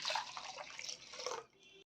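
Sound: water poured into a mixer jar

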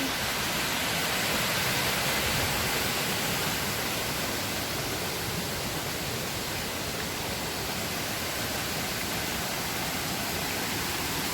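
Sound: Jet Khot waterfall in Saraburi, Thailand

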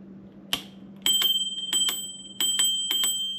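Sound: electric scooter bell ringing

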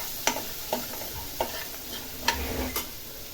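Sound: stirring vegetables frying in oil with asafoetida

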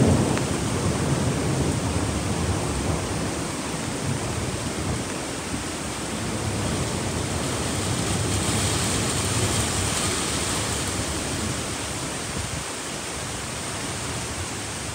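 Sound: strong wind blowing through tall trees

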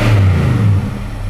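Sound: truck engine revving, cold air intake

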